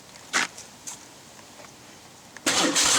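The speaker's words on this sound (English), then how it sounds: "let's start the bike and see what happens" A motorcycle engine starts: a few faint clicks and brief starter bursts, then the engine catches at the end and runs loud and broadband, close by, with no one talking.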